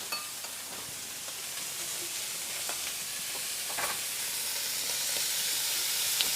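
Butter sizzling in a hot skillet while scallops cook, a steady broadband hiss that slowly swells louder, with faint tapping, close and with no talking.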